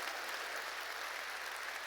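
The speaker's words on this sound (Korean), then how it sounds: "더 세게 하나님께 박수 치라고요." A church congregation claps for God, a dense, steady wash of many hands applauding throughout, fairly even in level with no voices standing out.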